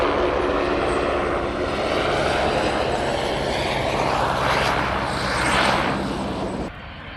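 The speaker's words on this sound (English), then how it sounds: "The MiG-15, or the SB Lim 2, which was flown for us today" A MiG-15 jet (SB Lim 2 variant) roars through a flying display, its loud broadband jet noise swelling and sweeping overhead with a shifting pitch, then dropping away abruptly near the end.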